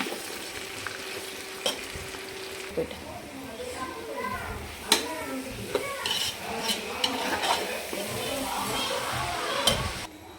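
Sliced onions, a big batch of about fifteen, sauté in a pan with a steady sizzle, irregular spatula scrapes and clinks of utensils, while voices talk and children are heard in the background.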